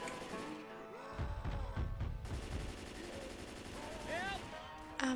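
Gunfire aimed at a Tank in Left 4 Dead 2, with dense bursts of shots clustered in the middle of the stretch under busy game noise, and a sharp loud crack at the very end.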